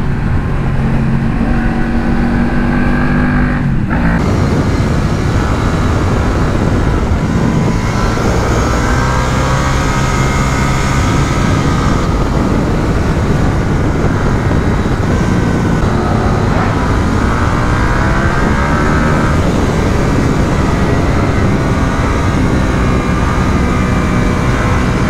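KTM 890 Duke R twin-cylinder motorcycle engine while riding, a loud continuous roar with rising and falling revs and strong wind noise throughout, no talking.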